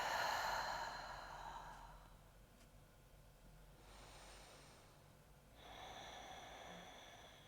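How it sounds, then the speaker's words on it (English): Slow, quiet breathing during seated yoga, with a soft drawn-out exhale, a pause, then another gentle breath cycle, faint and close. "And breathe."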